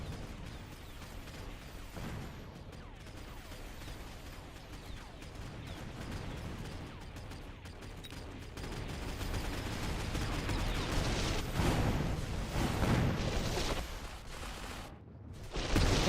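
Units in the strategy game Mechabellum fire on a worm: dense, continuous mechanical gunfire and artillery-like bursts that build louder toward the end, with no talk over them.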